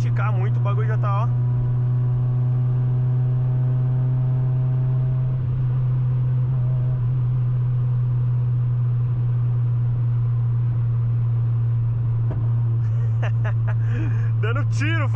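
A Chevrolet Astra 16v car runs hard on a highway, its engine a loud, sustained drone with a low steady hum from inside the cabin, and a brief voice breaks in near the end.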